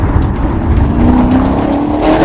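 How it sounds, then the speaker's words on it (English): Ferrari Challenge Stradale roaring loud and close from inside, its engine note climbing steadily with rough, crackling exhaust texture riding on top; no voices. "the pops and bangs on this thing is wild"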